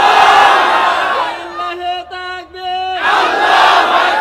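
A large gathering at a Bangla Islamic sermon shouts a loud takbir chant in unison, a swelling roar that gives way to a sustained collective call, then breaks back into massed shouting.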